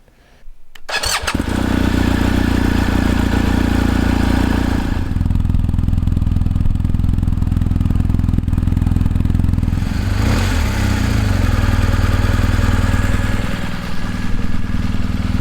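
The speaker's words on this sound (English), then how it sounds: "the Boxer engine sounds like a sewing machine" A 2022 BMW R 1250 GS boxer motorcycle engine starts with a clatter, then idles steadily with a low, even throb, close by and loud, with no talking.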